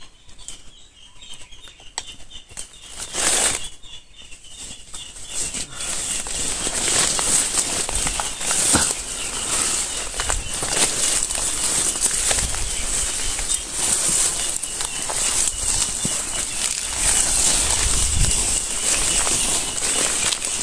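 Bird wings flapping in trees, a restless fluttering among leaves over a loud, constant high insect-like drone and rustling outdoor ambience.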